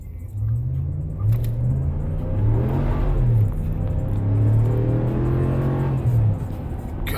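Close engine of a 2019 Dodge Ram Bighorn pickup revving repeatedly, a deep rumbling drone that rises and falls in pitch through several throttle blips, steady and fairly loud with no talk over it.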